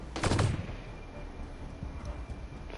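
Gunfire in a video game, a loud burst of shots at the start followed by fainter scattered reports in the background.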